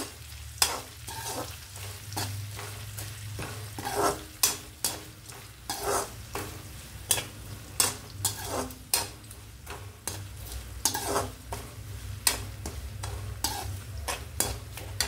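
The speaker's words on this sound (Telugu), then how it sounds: "ఉల్లిపాయ ముక్కలు మరీ బ్రౌన్ కలర్ అక్కర్లేదు, కొంచెం వేగితే చాలు" Onion pieces fry in a pan for a curry, a steady low sizzle under repeated sharp scrapes and clinks of a spoon stirring against the metal, close up with no voices.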